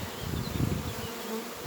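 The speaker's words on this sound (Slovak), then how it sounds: "včely hučia na rámikoch" A honeybee swarm hums on the frames of a hive, a dense low buzzing drone that pulses and swells before easing off, close and steady with a few faint higher whines from individual bees.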